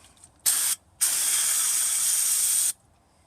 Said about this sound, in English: I'm just like spraying them with carb cleaner